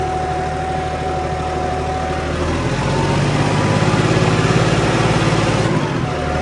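John Deere 5405 tractor with a turbo power upgrade, its diesel engine idling and then rising in revs partway through, a loud, close, steady drone with a deeper, stronger tone after the throttle opens.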